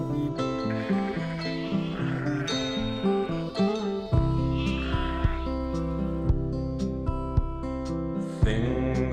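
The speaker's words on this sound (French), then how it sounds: "On va aller voir les moutons." Several sheep bleat loudly and close by, overlapping calls rising and falling over a low steady drone, with a few sharp clicks between them.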